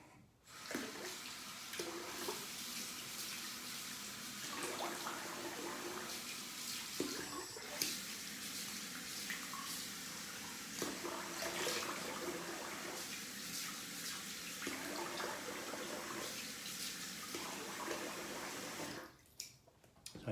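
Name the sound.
water splashing while rinsing face after shaving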